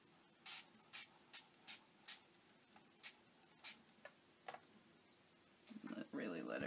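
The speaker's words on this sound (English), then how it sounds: "I'm gonna spray it." Spray bottle misting an alcohol ink painting over acrylics on photo paper: about nine short, close hissing spritzes at an uneven rhythm, then a louder rustling burst at the end.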